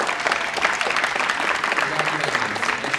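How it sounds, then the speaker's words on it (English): Audience at a city council meeting claps in a dense, steady round of applause that lasts the whole moment, with faint voices underneath. "Let's give them one more round of applause"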